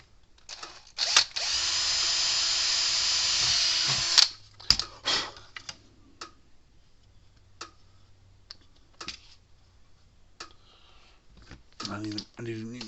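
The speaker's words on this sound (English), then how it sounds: "I need to drill a hole." A power drill bores a hole in a Gallagher M1500 fence charger housing, running loud and steady for a few seconds before stopping, followed by scattered clicks and handling noises, with a voice speaking briefly near the end.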